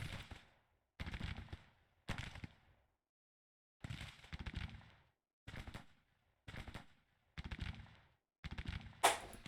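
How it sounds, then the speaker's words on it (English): Artillery and infantry fire in the Civil War strategy game Grand Tactician: about eight separate volleys of rattling gunfire and booms, each lasting under a second, with near-silent pauses between them. "Artillery is firing on them."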